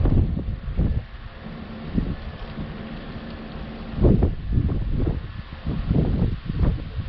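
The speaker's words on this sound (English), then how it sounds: "windy out here today, so it's probably going to pick up a lot of wind noise." Gusty outdoor wind buffets the microphone on a parked car during a park assist sensor check, with loud low rumbling bursts that swell and fade throughout.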